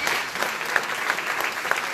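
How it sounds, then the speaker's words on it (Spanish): An audience applauds at a talk, a brief, moderately distant burst of steady clapping with no one speaking. "Vamos a dar un aplauso de ánimo."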